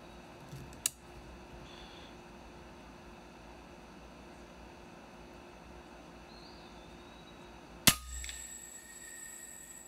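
A .30 caliber FX Impact M3 air rifle fires twice, each a sharp, close crack, a small one early and a louder one near the end, with quiet outdoor hiss between the shots.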